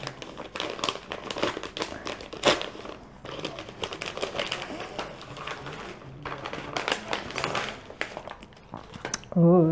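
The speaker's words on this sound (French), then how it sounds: "l'ouverture d'un petit courrier surprise de la part de Stéphanie" Paper crinkles and rustles continuously as a small envelope of surprise mail is torn open and handled up close, with sharp tearing bursts and some brief talk mixed in near the end.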